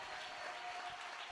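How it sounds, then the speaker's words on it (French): A brief burst of steady crowd clapping as a church congregation applauds in acclamation of the Lord during a service. "Est-ce qu'on peut acclamer Jésus?"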